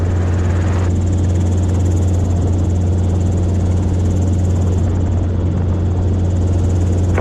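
A Robinson R22 helicopter's engine and rotor drone, heard loud and close from inside the cabin as a constant, unbroken hum for the whole stretch.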